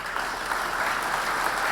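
Audience applause at a game-breeders' auction, a steady, dense wash of clapping from a crowd that holds evenly for the whole stretch with no voices over it.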